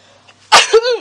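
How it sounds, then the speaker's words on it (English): A single sharp, close allergy sneeze bursts out, followed by a short breathy vocal trailing off. "Sorry, and I'm sneezing"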